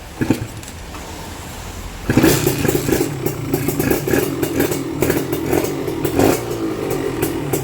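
A Kawasaki KR150 motorcycle engine runs close by with a low idle that jumps into a loud, rattling run after about two seconds, with uneven throttle surges.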